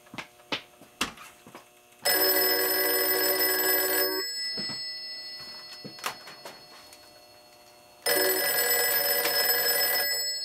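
A home telephone rings in two long electronic bursts separated by a quiet stretch with small clicks and knocks, loud and close.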